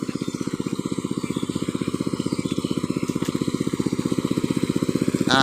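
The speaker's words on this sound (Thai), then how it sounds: "มาสูบน้ำครับ สูบน้ำออก" A small engine-driven water pump runs steadily while draining a flooded rice paddy where the rice has fallen over, its fast even chugging close, loud and continuous throughout with no talk.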